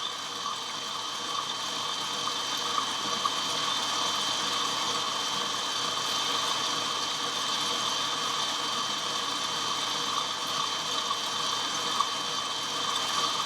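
An electric mixer whips cream for tiramisu with a steady, even motor whir that holds constant throughout. The sound is close and continuous, with no voices.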